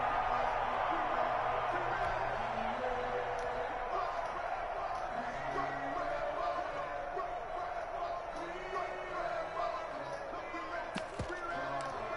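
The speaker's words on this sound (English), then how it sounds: "This crowd is ready as their guys get set to match up between the New Orleans Saints and the Carolina Panthers." A stadium crowd in a football video game roars steadily between the New Orleans Saints and Carolina Panthers, a broad continuous din with scattered thuds and shouts.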